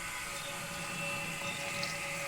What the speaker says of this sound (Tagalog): Ilagay ang tubig sa kaldero.